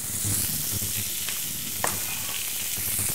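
Shallots sautéing in rendered foie gras fat in a pan give off a steady, close frying sizzle, with one brief clatter of a utensil partway through.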